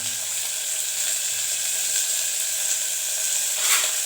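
Onion, curry leaves, garlic and dried chillies sautéing in hot oil give a steady close sizzle and hiss, with a brief louder crackle near the end as the pan is stirred.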